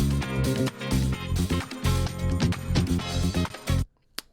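Disco loop layered with an added sample bass, a full pulsing groove with thick low bass notes and rhythmic drum hits, stopping abruptly near the end with a brief quiet tail.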